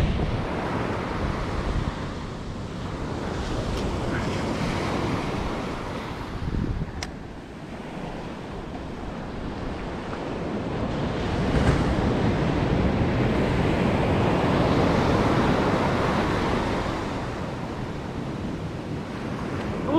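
Ocean surf rolls and breaks continuously on an Australian surf beach at sunset, with steady wind buffeting the microphone and swells rising and falling in loudness across the whole stretch, no voices present.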